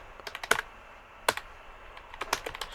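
Typing on a computer keyboard while entering a name into Excel, quick bursts of close, crisp key clicks with short pauses between groups.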